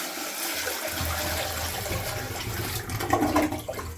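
Water rushing into a newly installed toilet during a bathroom renovation, a steady loud flow that grows busier and more splashy toward the end, heard alone.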